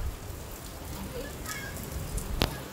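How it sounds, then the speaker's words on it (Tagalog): Heavy rain falling steadily outdoors at a lakeside fishing spot in Laguna, a dense, even hiss with a few sharper drop hits, continuous and fairly close throughout. "Biglang lumakas ang ulan."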